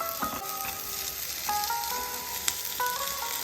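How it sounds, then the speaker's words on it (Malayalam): Chicken spring roll filling frying in a pan, a steady broadband sizzle with a few brief clinks and scrapes from stirring, close and moderately loud, with no talking. "ഇനി നമ്മുടെ മിക്സ് കുറച്ച് ഇതിലേക്ക് ഇട്ട് ഒന്ന് ഫ്രൈ ചെയ്തെടുക്കാം"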